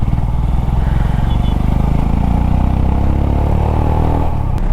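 A Royal Enfield Himalayan motorcycle fitted with new Reise TrailR tyres cruising on a highway, a loud steady engine drone and tyre hum with wind rush, close and continuous.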